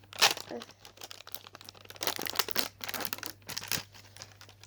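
A snack package wrapper crinkles and tears open close by in several sharp, irregular rustling bursts, with a voice speaking briefly among them.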